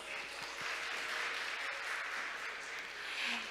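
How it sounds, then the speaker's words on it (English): A conference audience at a maritime event applauds after a presentation, a sustained, even roar of many hands clapping that is heard alone for several seconds. "So let's give Mr. Kim another big round of applause"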